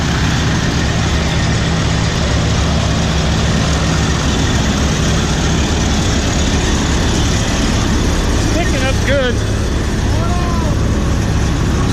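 A combine harvester cutting wheat runs as a loud, steady engine drone throughout, with some coarse grinding in the mix as it feeds sticks through, and a few brief whistly sounds near the end.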